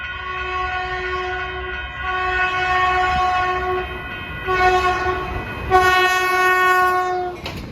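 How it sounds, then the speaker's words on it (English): A Caltrain commuter train bound for San Francisco sounds its P2 horn in San Mateo, California, a loud sustained chord in several long blasts with rail rumble underneath and no speech. "You'll note all the horns on all of the Caltrain equipment are P2s."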